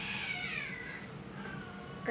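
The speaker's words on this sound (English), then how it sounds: "Our cats don't like each other." Two house cats meow at each other indoors, giving a faint, drawn-out, wavering cry that falls in pitch, heard alone with no talk.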